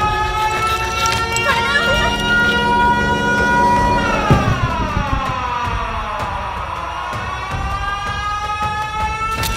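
A Siren Head creature in a video game lets out a loud, layered siren wail that rises and then sweeps downward, with voices talking excitedly over it.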